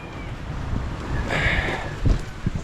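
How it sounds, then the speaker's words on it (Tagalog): Strong wind roars and buffets the microphone in a steady broadband rush, with low thumps and gusts rising and falling; no one speaks. "Lakas ang hangin ah."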